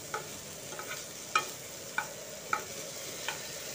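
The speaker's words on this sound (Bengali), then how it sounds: "একটু নেড়ে নেড়ে খুব সুন্দরভাবে আলু আর মশলাকে ভেজে নিয়েছি" Potatoes and spices are stir-fried in a pan: a quiet steady sizzle broken by four or five distinct spatula scrapes and taps at irregular intervals, no voices.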